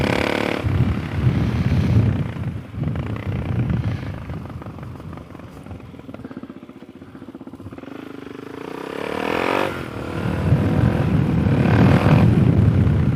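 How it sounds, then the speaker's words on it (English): A motorcycle passing on the road while its rider pulls a wheelie; a droning engine that swells loud, fades in the middle, then surges again with a rising rev, heard over steady wind and road noise. "Every once in a while, you gotta say hi to a biker, especially when they rip a little wheelie for you."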